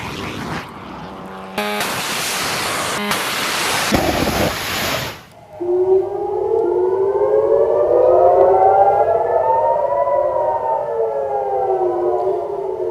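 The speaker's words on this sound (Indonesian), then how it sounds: "Sirene berbunyi di seluruh kota Haifa" Air raid sirens wail across Haifa, rising and falling tones layered from several distant sources, preceded by a burst of harsh broadband noise.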